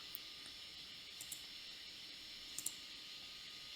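Faint, isolated mouse clicks while sending Cardano from a Coinbase exchange account, with a few light taps spaced across a few seconds over a low steady hiss, and no voices.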